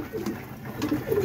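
A young Sialkoti pigeon chick coos in soft, throaty, repeated murmurs at close range against faint background noise.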